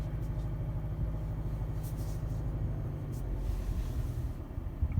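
Low, steady engine rumble from a 2020 Jaguar F-Pace 30T AWD with a 3.0T badge, its idle-like drone oddly resembling a four-cylinder, heard continuously and fairly quiet without anyone speaking.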